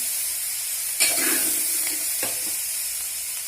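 Potato, eggplant and radish pieces frying in a pan for a no-onion, no-garlic vegetable dish give a steady close sizzle, with a couple of brief stirring scrapes partway through.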